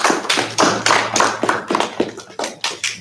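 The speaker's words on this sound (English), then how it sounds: "So give yourselves another round of applause for that" A small team at a season wrap-up and awards gathering claps in sparse, separate sharp claps that land roughly every quarter second, fairly close and loud, with a low steady hum underneath.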